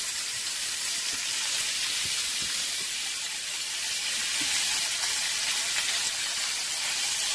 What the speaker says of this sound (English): first thing I'm going to do is just add my sausage to the pan